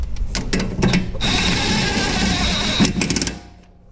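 Power tool steadily driving an 18 mm bolt through a coilover bracket on a 2003 BMW Z4 E85, a loud continuous whir for about two seconds with short bursts before and after, close up.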